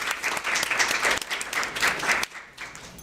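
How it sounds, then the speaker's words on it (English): Audience at a creative writing fiction panel applauds the panelists, a full burst of clapping that rises and dips, then drops off sharply near the end into a few scattered claps. "Round of applause for our panelists."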